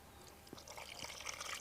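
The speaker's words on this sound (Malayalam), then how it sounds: "അപ്പം നമുക്കിതിൽ കുറച്ച് വെള്ളം ഒഴിച്ചു കൊടുക്കാം" Water poured into a meat curry in a pot, a faint trickling splash that builds slightly toward the end.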